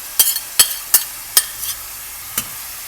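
Onions being tempered in a pan for mushroom sukka, with a handful of sharp scraping stir strokes and light sizzling, close and alone without speech.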